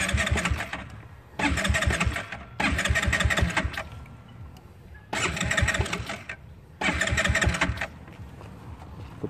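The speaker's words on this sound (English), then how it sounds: "Hold the brake lever, hit the start button." A scooter that has been crashed, cranked with the start button in five separate attempts, each a loud close grinding-sputtering burst of a second or so with short pauses between, the engine never settling into a steady idle.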